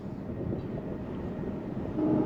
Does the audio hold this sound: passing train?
yes